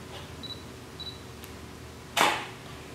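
A camera shutter fires once near the end with a sharp, loud burst, taking a flash photo for a gray card exposure test, preceded by faint quiet electronic beeps in a still room.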